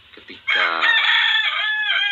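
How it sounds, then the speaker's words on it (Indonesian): A rooster crows loudly just outside a room, one long sustained cock-a-doodle-doo that starts abruptly after a brief spoken word and fills the rest of the moment. "ada suara ayam di luar ruangan yang cukup besar ya"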